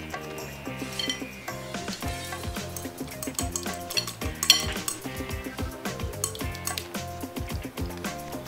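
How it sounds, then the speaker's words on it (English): Eggs whisked on top of a meatloaf mixture in a bowl, giving quick, steady tapping and clinking of a utensil against the dish, fairly close and continuous without talk. "I'm just going to whisk them on top of the meatloaf."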